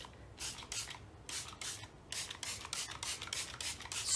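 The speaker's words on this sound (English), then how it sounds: "So I think I'm going to use the spray bottle" Repeated short spritzes of water from a spray bottle onto a watercolour painting, about a dozen quick hissing bursts in uneven rhythm, close and fairly quiet.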